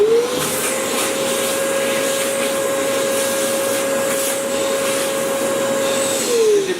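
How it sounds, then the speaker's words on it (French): A workshop vacuum cleaner runs steadily with a constant, loud whine and airy roar, holding level for several seconds before the pitch drops as it spins down at the end. "on veut en vitesse aspirer quelque chose, l'aspirateur est là"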